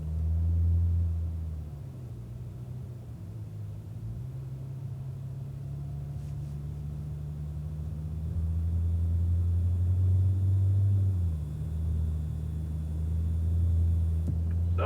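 Cadillac ATS-V cars pulling out of the pit lane at the Circuit of the Americas, a steady low engine drone heard from inside, rising and falling in pitch as the car shifts and accelerates, with no talk.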